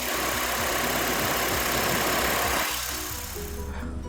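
The engine of a 2016 Honda Civic idles after an oil change with a loud, steady low rumble that thins out and quiets slightly toward the end.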